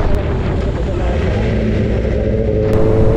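A Kawasaki ZX10R motorcycle engine and exhaust roar steadily and loudly up close, a sustained dense drone with no clear breaks, with wind noise mixed in.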